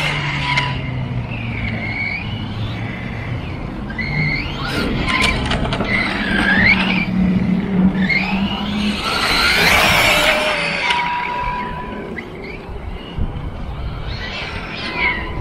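A heavy Reely RC car, over 5 kg, revs hard, its electric motor whining up and down in pitch, with tire squeals and skids as it accelerates and brakes, loud and close.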